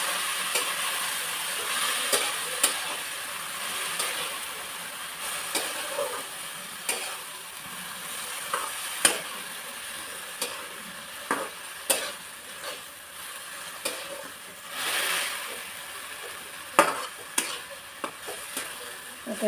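A wild vegetable is stirred and sautéed in a pan, giving a steady soft sizzle with scattered ticks and scrapes of the spoon against the pan, fairly quiet and with no talk.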